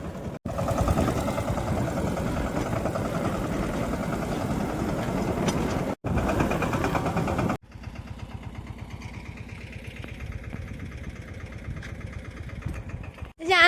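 A farm tractor engine runs with a steady, throbbing drone, dropping briefly twice before settling into a lighter, rhythmic idle chug.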